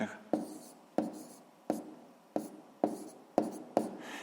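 Pen strokes writing a math fraction by hand on paper during a sixth-grade exercise, six sharp scratching bursts at a steady rhythm, close and clear with no talk.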